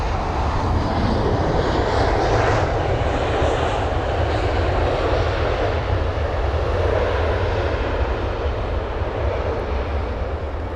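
An Aer Lingus Airbus A320 from Cork lands at London Heathrow, its engines a loud, steady roar heard from outside that swells slightly and then holds as the jet passes.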